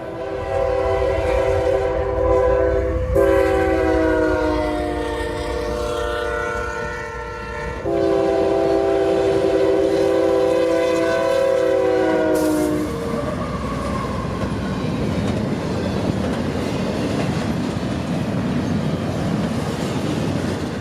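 A CSX intermodal freight train roars close by at Folkston, Georgia, its horn blaring in long chords twice, then the heavy rumble and rattle of rolling cars continues.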